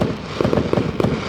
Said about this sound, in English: who's lighting up the fireworks?